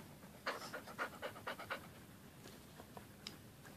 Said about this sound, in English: You can probably hear you breathing.